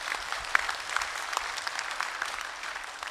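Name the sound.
audience applause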